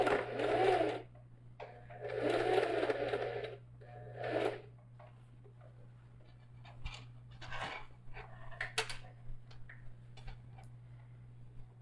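A sewing machine stitches a backpack in bursts, several loud runs in the first few seconds followed by quieter intermittent stitching and small handling noises over a steady low hum.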